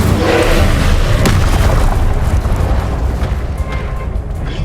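Spell explosion in the Hogwarts Legacy video game, a loud, heavy boom with a deep rumbling body that rolls on and slowly decays over several seconds, close and dominant.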